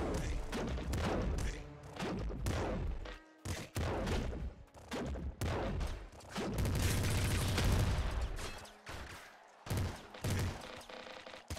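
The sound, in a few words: rapid weapon fire in video game Nuclear Throne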